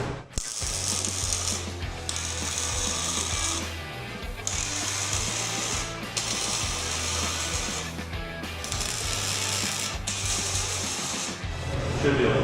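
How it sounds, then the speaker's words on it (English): Steel tube for a vehicle roll cage is welded in a run of steady buzzing, crackling bursts a few seconds long with short breaks between them, close and loud. "And now I can go ahead and weld this up where it's in line with"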